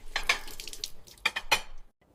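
Dishes and cutlery clink and clatter at a sink during washing up, a few close, bright knocks in quick bursts with short pauses between them.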